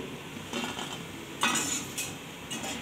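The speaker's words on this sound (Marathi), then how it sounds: "आता इथं मी एका ताटामध्ये गुलाबजाम आहे ते काढून घेते।" Fried gulab jamuns lifted out of oil onto a plate, with a few faint metal clinks and scrapes of a utensil against the dish amid a light sizzle.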